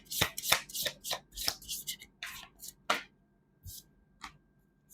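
Tarot cards shuffled by hand produce a series of crisp, close riffling and slapping bursts in an uneven rhythm, busy at first and then thinning out to a few isolated snaps.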